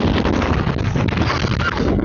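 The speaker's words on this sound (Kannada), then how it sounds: "ಫುಲ್ಲು ಏನ್ ಗುರು ಹಿಂಗ್ ಗಾಳಿ ಹೊಡಿತೈತೆ" Strong wind blowing across Mullayanagiri peak in Chikmagaluru, loud continuous buffeting roar against the microphone throughout, no voices.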